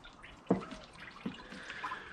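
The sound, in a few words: 1998 Jeep Cherokee XJ radiator draining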